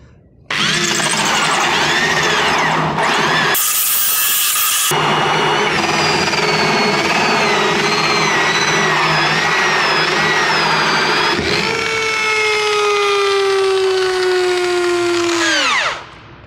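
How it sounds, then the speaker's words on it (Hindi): An electric drill fitted with a 64 mm Ingco bi-metal hole saw bores through a lamination sheet, running loud and steady with a grinding, buzzing whine, briefly dropping out once, then winding down at the end. "मैंने ड्रिल मशीन में सबसे बड़ा कटर जो कि 64 mm का कटर है, ये मैंने अपनी ड्रिल मशीन में लगा लिया"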